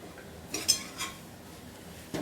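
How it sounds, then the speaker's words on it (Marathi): A spoon stirs fasting-style potato bhaji with coconut and coriander in a pan, giving a few light metallic clinks and soft scrapes, quiet and close with no talk. "चांगली मिक्स करून घ्यायची आणि वरून थोडी कोथिंबीर टाकायची"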